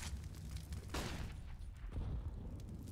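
A molotov and a grenade go off in a CS:GO pro match on Mirage: a dense, rumbling roar of fire with a few sharp bangs and booms layered over it, loud and close.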